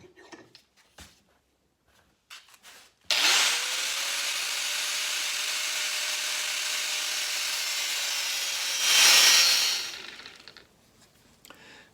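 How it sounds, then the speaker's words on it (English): An angle grinder with a cutoff disc cutting through small metal pieces: a loud, continuous high whine for about six seconds, then a brief rise in pitch as the cut finishes, with quiet handling clatter before and after. "So I'll go over the grinder, angle grinder, and we'll cut these off with a cutoff disc."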